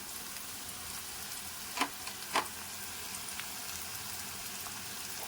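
Spices frying in a pan while being stirred, a faint steady sizzle with a couple of brief scraping strokes early on.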